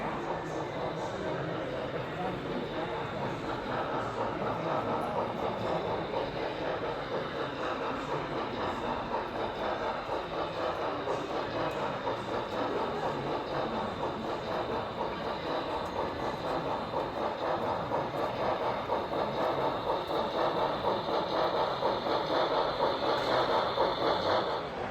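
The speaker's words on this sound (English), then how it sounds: "There goes one of Richard's Pennsylvania locomotives right there." A model Pennsylvania locomotive runs along a layout at a train show, giving a steady, continuous rolling rumble with faint clicking at moderate distance, amid the busy murmur of a crowded hall.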